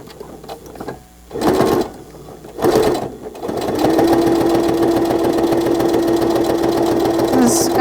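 A sewing machine back stitches a pocket in fabric. Two short bursts of stitching come first, then a long, loud run of steady motor hum and rapid needle chatter, with a little talk near the start.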